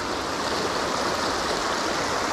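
Mountain stream water rushing steadily and loudly nearby at a fly-fishing spot, a continuous broadband wash with no pauses and no voices.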